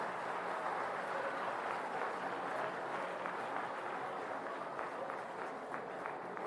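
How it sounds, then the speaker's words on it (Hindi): Faint, steady applause from a crowd at a school building inauguration, sustained clapping heard from a distance with some shuffling footsteps. "जोरदार तालियां।"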